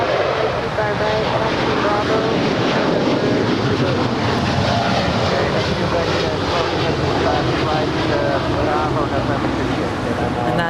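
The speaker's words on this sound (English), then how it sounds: "that is United 32, off to Narita, 787-9" A United Boeing 787-9 takes off from Los Angeles bound for Narita, its engines building into a loud, sustained roar with rumbling texture, while someone talks over it.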